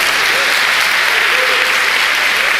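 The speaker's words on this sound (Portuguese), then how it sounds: "dar uma salva de palmas pelo Zago?" A church congregation gives a round of applause for Zago, loud, continuous clapping, close and unbroken from start to finish.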